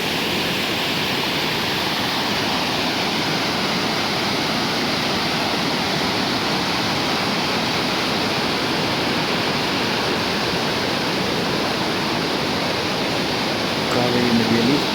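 Hogenakkal waterfall on the Kaveri river, a loud, constant roar of falling water filling the whole scene without pause.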